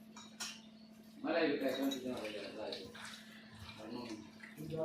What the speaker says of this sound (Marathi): पुन्हा असं एक एक एक एक पीस धुवून घासायचं